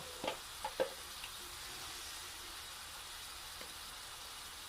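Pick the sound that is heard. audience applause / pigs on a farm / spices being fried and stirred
spices being fried and stirred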